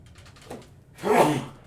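A single short sneeze bursts out near the end, close and fairly loud, after a moment of quiet faint tapping.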